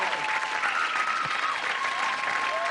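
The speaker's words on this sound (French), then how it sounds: "Applaudissez Kev Adams." Studio audience on a TV comedy show applauding a comedian, a loud, dense wash of clapping that fills the whole short stretch evenly.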